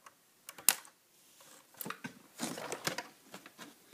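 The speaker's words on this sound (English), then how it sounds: "Let's just snip off some plastic over here." Scissors snip through plastic packaging on a Maisto Porsche Cayman S model car box, giving a run of close, quiet clicks and crisp crinkly cuts of irregular rhythm.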